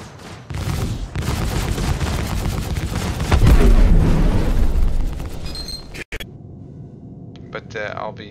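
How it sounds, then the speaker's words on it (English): A loud burst of booms and rapid crackling fire swells midway in Star Citizen, then cuts off abruptly, leaving quieter electronic tones and chirps. "I saw an explosion though"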